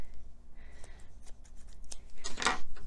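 Scissors snip a tail of chunky chenille yarn close by, a few faint ticks and small rustles building to one louder, brief crisp cut near the end.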